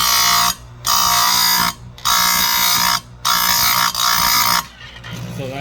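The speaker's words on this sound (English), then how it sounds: "we're just gonna grind it till it's right" A saw-chain tooth is ground on a sharpener wheel in four loud, sustained bursts with short pauses between them, each a bright whining grind, followed by a quieter tail as the wheel winds down.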